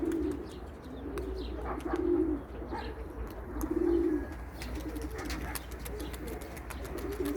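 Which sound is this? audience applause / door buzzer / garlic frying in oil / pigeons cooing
pigeons cooing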